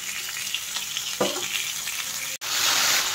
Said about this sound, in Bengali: তো চলো এবার এটাকে ভেজে নিই।